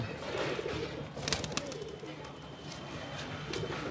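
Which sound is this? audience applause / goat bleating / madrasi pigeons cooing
madrasi pigeons cooing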